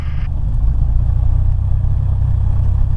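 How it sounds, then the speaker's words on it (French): A light aircraft's piston engine holds steady at 1000 rpm during a shutdown checklist, a loud, continuous low drone close by with an even, throbbing texture and no break. "le régime moteur 1000 tours"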